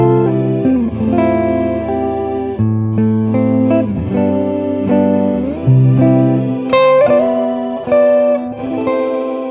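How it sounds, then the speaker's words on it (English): A guitar-organ plays its guitar voice blended with its organ sound, producing sustained, layered chords with shifting notes. The tone is loud and continuous, with no talking. "Let's see how it sounds if I combine the guitar with the organ sound."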